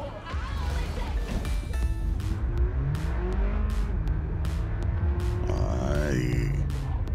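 A car engine in Cyberpunk 2077 hums steadily while driving, with its pitch rising and shifting as the car accelerates, alongside intermittent clicks and knocks.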